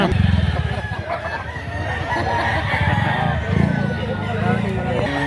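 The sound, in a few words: rooster chickens at a fowl market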